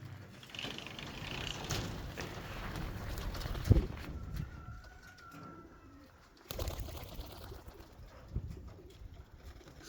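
Racing pigeons coo softly outside a loft in Lithuania in freezing weather, repeated low throaty calls over a steady outdoor hiss, with a brief sharp knock midway.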